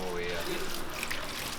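Engine coolant from the radiator of a 700+ hp C10 truck spills into a bucket and splashes onto the floor in a short, close trickling pour, with voices talking over it.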